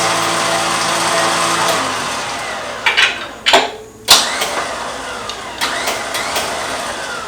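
A Badland Apex 12000 electric winch motor whirs steadily, then stops and restarts in several short, sharp bursts with clicks and whines between them, fairly close.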